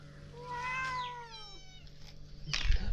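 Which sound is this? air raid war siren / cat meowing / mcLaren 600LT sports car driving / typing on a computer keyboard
cat meowing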